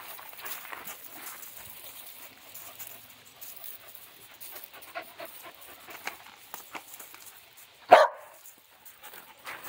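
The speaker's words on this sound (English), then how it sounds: "No barking." A two-year-old poodle in a barn barks, with panting and a sharp, loud bark burst standing out near the end amid quieter background movement.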